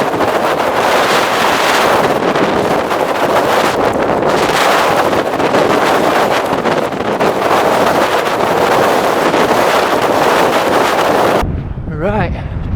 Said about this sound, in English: The wind is something else.